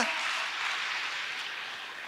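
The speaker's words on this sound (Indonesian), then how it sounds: "Tepuk tangan bagi Allah kita" A congregation at a Christian church service applauds, producing a continuous, even hiss of many hands clapping together, fairly soft and without any voices on top.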